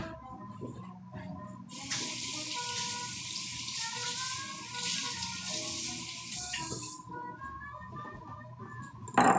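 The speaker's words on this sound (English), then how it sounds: "board is rinsed, but also flipped" A cutting board rinsed under a running kitchen tap: a steady rush of water for several seconds with soft clatter underneath, ending in a brief louder knock.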